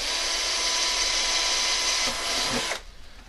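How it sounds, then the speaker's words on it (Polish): A small power drill with a smaller bit bores through plastic, a loud, steady high-pitched whir at close range that suddenly stops near the end, leaving quiet handling noise. "Spróbuję mniejszym wiertłem."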